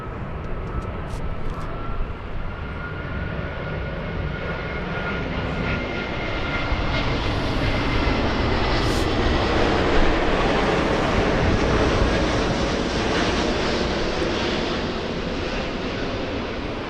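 A Lufthansa Airbus A380 arriving at LAX from Munich produces a loud, continuous engine roar with a faint whine, swelling slightly midway, alone without talk.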